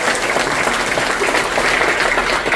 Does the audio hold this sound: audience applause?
yes